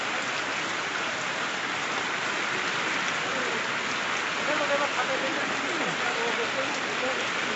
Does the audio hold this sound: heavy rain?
yes